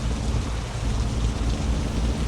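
Heavy rain pours steadily in Truckers of Europe 3 while driving a truck, a dense, constant wash of rain noise with a low rumble and no talk.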